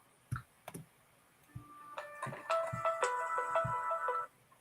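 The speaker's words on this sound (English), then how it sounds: "Phone ringing and everything." Mobile phone ringtone playing a bright, repeating electronic melody for about two seconds, preceded by a few sharp taps or clicks, fairly close and clear with no talk.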